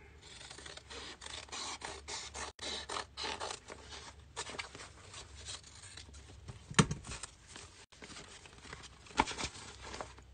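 A scrap of gray HeatnBond fabric is cut in a quiet room, giving a steady run of soft rasping snips and scratches with brief pauses, close and faint, with no talking.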